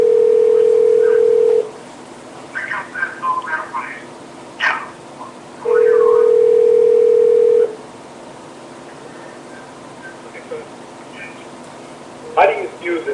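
Steady telephone dial tone heard twice after a handset is lifted on a call-in line, each a flat continuous hum lasting about two seconds, with someone talking over the phone line in between.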